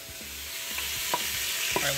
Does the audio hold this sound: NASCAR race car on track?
no